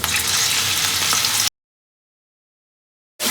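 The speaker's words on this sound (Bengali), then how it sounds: "এবারে হলুদ আর নুন দিয়ে ম্যারিনেট করা চিকেন দিয়ে দেব" Chicken marinated in turmeric and salt hits hot mustard oil in a kadai and sizzles loudly and steadily up close. It cuts to silence, then the frying returns.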